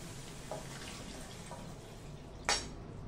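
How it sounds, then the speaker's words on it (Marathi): Water is poured into a pot of vegetable lemon coriander soup, giving soft faint splashes and drips and then one brief louder splash, with no talk. "आता आपल्याला काय करायचं, याच्यामध्ये हे पाणी घालायचंय"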